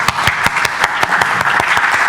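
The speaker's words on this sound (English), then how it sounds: "There will be a lot of claps today" Steady applause from a conference audience during opening remarks, dense continuous clapping that fills the room, loud and close, with no voices over it.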